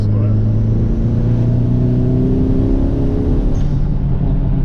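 Turbocharged Toyota MR2 engine accelerating under load as boost builds slowly, a loud close droning engine note rising gradually and holding steady, heard from inside the car.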